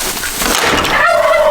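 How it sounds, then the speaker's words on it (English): Farm poultry calls in a loud, dense burst of gobbling and clucking, close up with continuous rough noise throughout. "There's a bunch of chickens."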